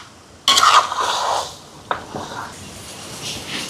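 Chicken leg pieces and salt stirred in a pot, a loud scraping clatter at first, then a softer mixing rub with a brief clink, no talk.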